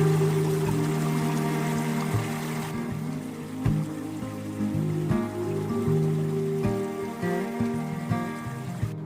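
Water pours and splashes steadily at the Lata Kolam Air Deru waterfall and river in Terengganu, a dense continuous rush close by with no voices over it.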